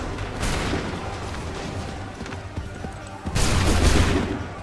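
Musket volleys from soldiers in Assassin's Creed 3 Remastered war battle: a dense, continuous roar of gunfire and booming shots, swelling into a louder burst near the end.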